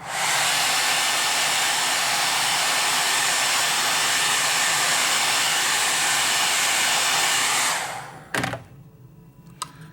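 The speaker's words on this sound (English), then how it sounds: "Hit it with a blow dryer." A blow dryer roars steadily and loudly for about eight seconds, drying soft sculpting material on an elephant figure, then switches off, followed by a few small clicks and knocks.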